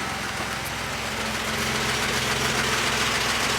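A vintage Jaguar engine idles steadily at close range, a continuous low, even rumble that stays level throughout with no talking.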